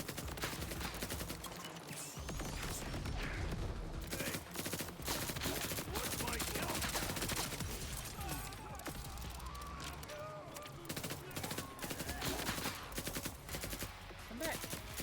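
Bursts of video game gunfire, fusillades and machine-gun rattle, run almost continuously and loud under a busy mix, with a voice talking now and then.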